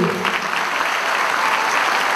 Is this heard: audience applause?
yes